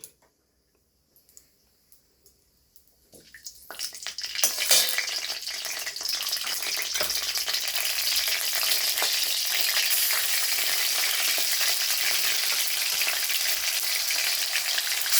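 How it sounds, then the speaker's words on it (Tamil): Cinnamon and cloves hit hot oil in a kadai, starting with a few soft clicks before a steady, loud sizzle builds and holds, close by, with no talking. "கடாயை வச்சுட்டு ஆயில் விட்டுடலாமா? பட்டை லவங்கம் போட்டுடலாம்."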